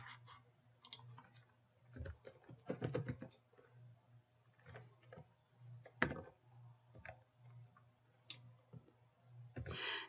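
Quiet, irregular keystrokes on a computer keyboard while code is typed, coming in short bursts and single clicks over a low steady hum.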